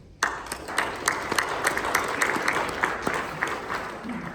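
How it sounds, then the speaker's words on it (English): A crowd at a speech applauds with a dense, steady patter of clapping that starts abruptly and keeps going at an even level. "So round of applause to each one of you guys."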